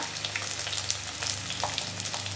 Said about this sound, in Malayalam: ഇനി നമുക്ക് ഇത് നല്ല രീതിയിലൊന്ന് വഴറ്റിയെടുക്കാം